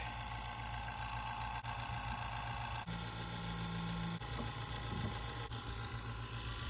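A vacuum pump hums steadily while evacuating the air conditioning system of a Honda Element after a discharge hose replacement, a continuous droning whir with a few slight dips in level, fairly near and without talk.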